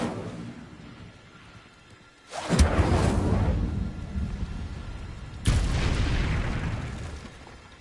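Two fiery blasts go off in the Hogwarts Legacy game as the Incendio fire spell is cast, each a sudden loud whooshing roar that rumbles on after a quieter lead-in, with the second burst landing a few seconds after the first.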